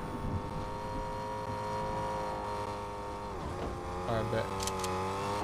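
A car in the Fortnite video game rolls along with a steady engine drone under a player's voices, the motor pitch dipping and rising near the end.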